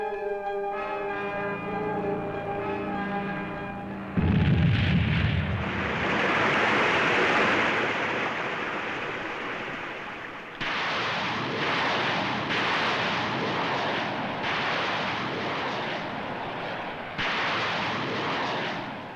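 Naval guns fire during a Japan Maritime Self-Defense Force fleet exercise off Izu Oshima, heavy booming blasts followed by rumbling and spray-like noise, repeated several times over about twenty seconds.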